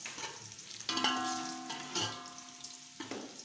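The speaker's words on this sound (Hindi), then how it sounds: "चिकन को थोड़ी देर पहले फ्राई करते हैं।" Chicken fries in a pan with browned onions, a close, steady sizzle broken by a few sharp hisses and faint stirring scrapes.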